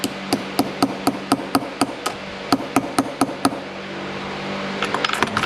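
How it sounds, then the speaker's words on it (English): A small brass hammer tapping a roll pin into an AR-15 upper receiver: a dozen or so sharp metallic taps in a fairly even rhythm, a short pause, then a quick flurry of lighter taps, close and clear with no talking. "Take our little brass hammer, get this started."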